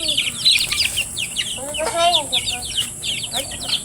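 Native chickens cluck and chirp in a flock at close range. The busy, overlapping calls keep going throughout, over a steady background hiss.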